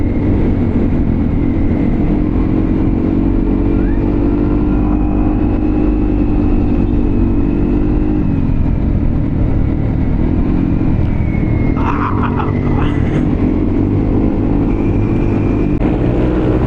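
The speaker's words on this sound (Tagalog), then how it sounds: "Gusto ko testingin yung yung motor ni JR 195 yun" A motorcycle engine runs continuously through a night test ride, a steady low rumble with a few shifts in pitch as it speeds up, close and loud, and no talk over it.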